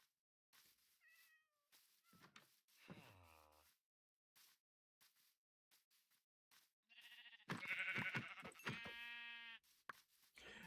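A house cat meows several times, with short cries early on and then a louder, drawn-out run of meows near the end, close by and separated by quiet gaps, with no talking.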